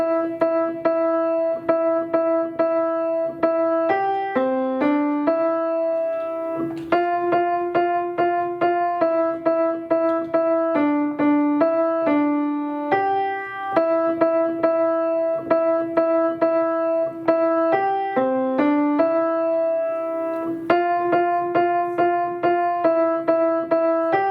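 A keyboard plays the Jingle Bells melody in clean, steady notes with simple chord accompaniment, repeating the tune twice with no talking.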